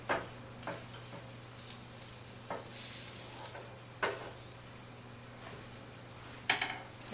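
Omelette eggs sizzle softly in a hot pan while being pushed toward the center, with a steady low frying hiss broken by several light scraping strokes.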